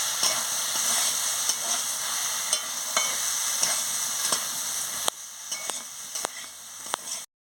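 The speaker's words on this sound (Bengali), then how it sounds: "সর্ষে বাটা দিয়ে আমি ভালো করে নাড়িয়ে নিচ্ছি" Mustard paste stirred into vegetables frying in a pan for a Bengali chorchori, with a steady loud sizzle throughout and intermittent spoon scrapes against the pan, ending abruptly in silence.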